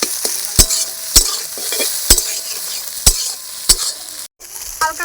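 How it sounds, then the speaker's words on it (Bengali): Eggs fry and are stirred in a pan, giving a steady bright sizzle. Sharp clinks of the spoon against the pan repeat about once a second, close and loud, with no talking. "হালকা হালকাই ভাজলাম ডিমগুলো"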